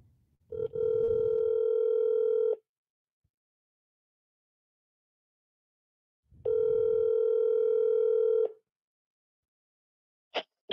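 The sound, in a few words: telephone dial tone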